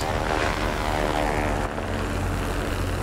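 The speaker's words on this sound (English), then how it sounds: "We've got a lonesome little ground attack plane coming back at us" Propeller engine drone of a ground attack plane in the World of Warplanes combat game, a loud continuous buzzing roar with a brief dip midway.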